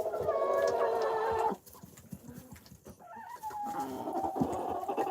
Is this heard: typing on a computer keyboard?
no